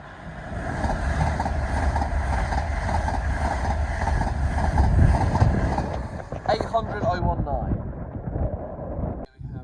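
A Class 345 Elizabeth line train heading to Abbey Wood at Ealing Broadway rolls through with a steady rumble and whine that fades near the end, with wind noise and voices present.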